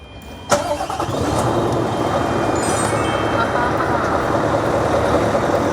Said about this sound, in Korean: 시동 건다 으르렁 한다 놀래지 마라